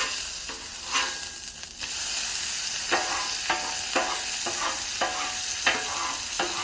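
Ribeye steaks sizzle loudly and steadily on a Blackstone griddle after flipping, a constant bright hiss punctuated by repeated sharp scrapes and taps of a spatula against the flat-top.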